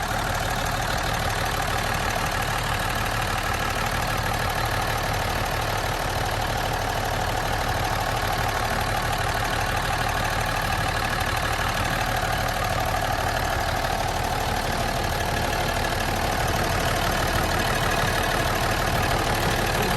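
Engine of a 55-year-old 1960s Crown tandem school bus idling from the rear, a steady close rumble with a low knocking drone and no voices over it.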